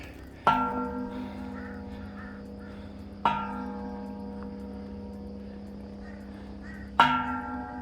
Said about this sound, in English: If I was gonna ring a bell.